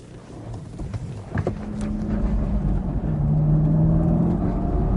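A 2001 LS6 Z06 Corvette sports car drives along, its engine note rising steadily into a louder, sustained drone under wind and road noise.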